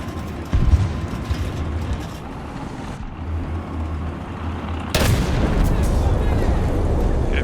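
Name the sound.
T-72B3 tank cannon firing in a video game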